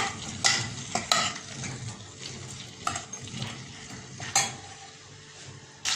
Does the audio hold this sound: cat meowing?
no